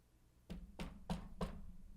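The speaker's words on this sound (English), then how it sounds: "That was me knocking on her head." Knocking on a character's head in the visual novel The Fruit of Grisaia: four dull, evenly spaced knocks, close and fairly soft, with no voices.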